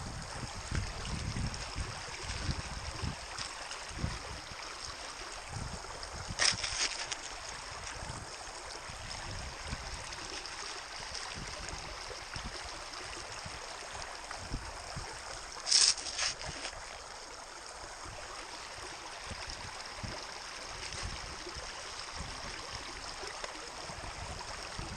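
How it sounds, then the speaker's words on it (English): Water rushing steadily through a gold sluice set in the Llano River, a continuous broad flowing wash with a couple of brief louder splashes, no talking. "The flow is good enough on this sluice though"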